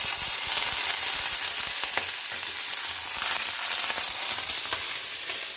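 Mustard seeds spluttering in hot oil on a stovetop, a steady close sizzle with scattered sharp pops and crackles throughout, no voices.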